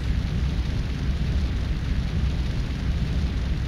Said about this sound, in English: Explosions just went through the ship like a chain reaction